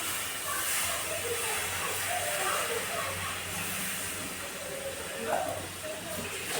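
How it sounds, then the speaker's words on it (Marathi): Gram flour (besan) roasting with milk in a pan for barfi gives a steady, close hissing sizzle with soft bubbling crackles throughout, while a voice talks over it. "याला बघा हे असं वाजत आहे म्हणजे आपलं बेसन छान मिक्स झालेलं आहे, भाजलं गेलं आहे"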